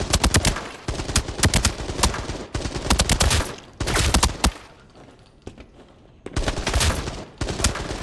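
Assault rifle fire in the video game Arena Breakout comes in loud rapid bursts, several sustained strings of shots separated by brief pauses, close and sharp.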